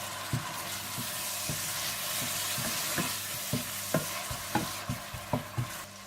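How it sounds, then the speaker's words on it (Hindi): Tomatoes and green chilies frying in a pan for palak paneer, a steady sizzle under a run of spoon or spatula scrapes and knocks against the pan, near and without talk. "थोड़ा सा भूनने के बाद आप इसमें टमाटर और हरी मिर्चें डाल दें। और अच्छी तरह से मिला दें।"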